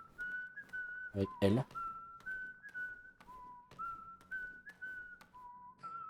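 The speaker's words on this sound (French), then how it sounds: "On siffle." Repeated two-note whistles in the Donkey Kong Bananza video game, a steady rhythmic pattern of short tones, briefly interrupted by a louder burst midway, with a voice talking quietly underneath.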